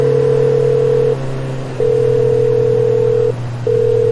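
A mobile phone rings in a dramatized scene, giving loud, steady electronic tones in long bursts broken by two short pauses, clear and close over a low hum.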